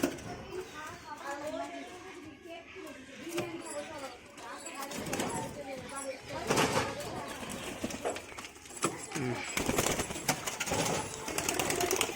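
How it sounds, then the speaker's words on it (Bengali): Pigeons cooing and shuffling around inside a coop, with soft murmuring coos and scattered wing flutters and scratching, fairly close, while a person talks over them. "তো এখন আমার মুখী পায়রাগুলোর কাছে চলে আসলাম।"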